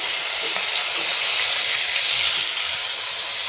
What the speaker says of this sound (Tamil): இப்போ எல்லாமே நல்லா வதக்கிக்கலாம்